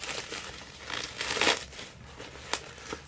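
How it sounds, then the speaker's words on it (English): Crinkly packaging layers around a Samsung Galaxy Note FE phone box are peeled and unwrapped, making close crackling and rustling with a few sharper crinkles. "we're unwrapping layers and layers"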